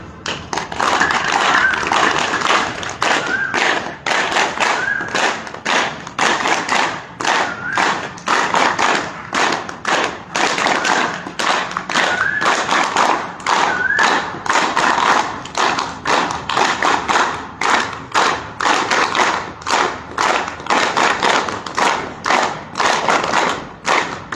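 A group in a morning yoga class claps hands together in a steady, even rhythm, loud and sustained for over twenty seconds, with a faint voice now and then beneath the claps.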